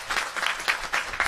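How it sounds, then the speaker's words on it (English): A graduation ceremony crowd gives teenage camp graduates a round of applause, brisk, dense clapping from many hands that swells and dips in quick waves, fairly loud and close. "Let's give them a round of applause."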